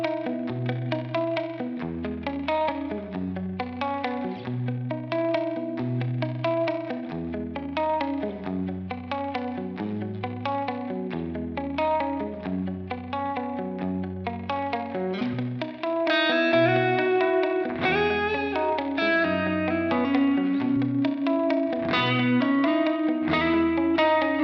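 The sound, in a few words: electric guitar, middle pickup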